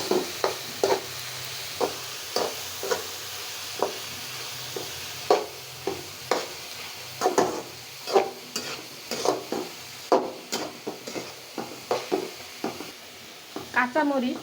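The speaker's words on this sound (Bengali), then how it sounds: "পেঁয়াজ রসুন পেঁয়াজ কাঁচামরিচ দিয়ে আর কলি দিয়ে রান্নাটা করতেছি" Onion, garlic, green chili and spring onion fry together in a pan for a prawn and spring onion stir-fry. Rhythmic spatula strokes scrape and clack roughly once a second over a continuous sizzle.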